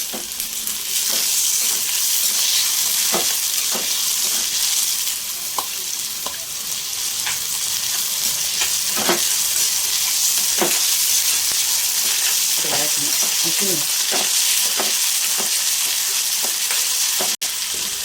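Loud, steady sizzling of a tomato being lightly charred in a hot pan, with occasional clicks of stirring and no talking.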